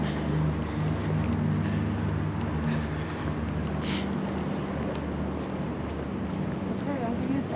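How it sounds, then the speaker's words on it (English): Wind blows steadily outdoors on a cold day, a constant low rumbling buffet across the microphone that stays even and fairly faint throughout, with a low hum running beneath it. "It's just the wind blowing a little bit."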